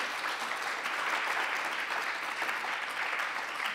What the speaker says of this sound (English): Yes, clapping for Premala is appropriate